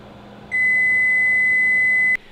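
A single steady electronic timer tone sounds loud and close for about a second and a half, then cuts off sharply, set while yeast bread cooks in a crock pot.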